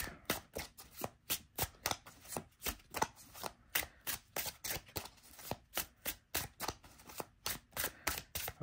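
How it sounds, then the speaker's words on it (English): Tarot cards being riffle-shuffled again and again in a quick, regular rhythm of crisp bursts, close and fairly quiet. "Okay, that part shuffles beautifully."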